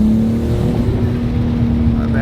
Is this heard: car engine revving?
yes